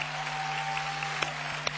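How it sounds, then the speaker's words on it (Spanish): Studio audience applause on a Spanish television show, a steady broadband wash of clapping held at an even level throughout, with a couple of sharper individual claps standing out near the end. "damos un fuerte aplauso"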